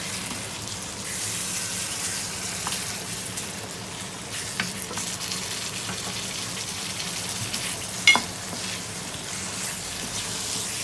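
Chicken chana dal with onion and spices frying in a pot, a steady soft hiss and sizzle with a few faint clicks, no voices.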